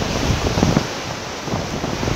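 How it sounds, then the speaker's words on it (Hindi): Fast-flowing river water rushing beneath a road bridge, a loud, steady broadband roar that fills the whole clip, with no voices over it. "बहुत तेज़ आ रहा है ये पानी।"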